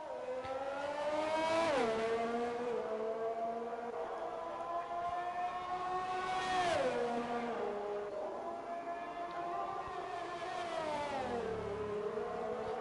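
A race car in a sim racing game lapping a track in Austria, its engine whining high and climbing, then dropping sharply at each gear change or braking point, repeated several times with no voices.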